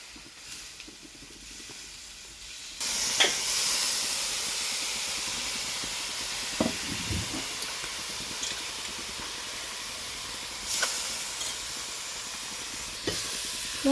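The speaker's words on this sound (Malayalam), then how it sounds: "ഇത് ഈ ലിവർ ചേർത്ത് കൊടുക്കലാണ്." Beef liver with pepper drops into a hot pan and starts a sudden loud sizzle. The hiss stays steady and close, broken now and then by spatters and clinks of stirring.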